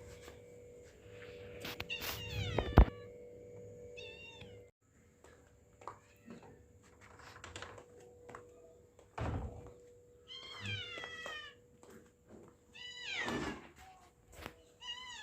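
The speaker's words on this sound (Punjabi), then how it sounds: "ਮਿਊ ਮਿਊ ਕਰਦੀ ਆ ਦੁੱਧ ਮੰਗਦੀ ਆ" A hungry kitten waiting by a door in a village home gives a series of thin, high meows scattered through the stretch, mixed with a few dull thumps and door knocks, fairly close in a quiet room.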